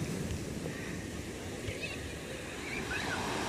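Steady wash of sea waves at a beach resort facing Manila Bay, a continuous broadband surf roar with wind rumbling against the microphone and no clear breaks.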